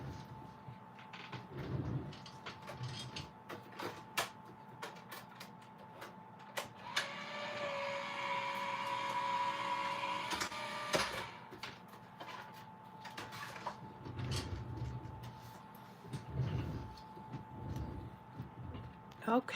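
Paper card cranked through a manual die-cutting machine, heard as a low grinding rumble with creaks and clunks that grows steadier midway, along with handling noises and a person speaking in places.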